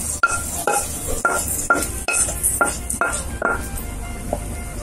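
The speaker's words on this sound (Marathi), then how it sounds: "हे पुन्हा एकदा हे सर्व व्यवस्थित मिक्स करून घेऊया" A spoon stirs fried cashews, almonds and raisins into a ghee-based chana dal ladoo mixture, giving repeated scraping clinks against the pan at a steady rhythm, with a faint sizzle underneath.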